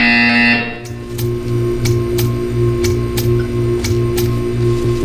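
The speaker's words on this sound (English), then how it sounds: "When you hear the buzzer, stare at the art." A buzzer in the puzzle game Portal 2: a harsh electronic buzz pulses in a steady repeating rhythm over a constant low hum, loud and close, preceded by a brief higher tone at the start.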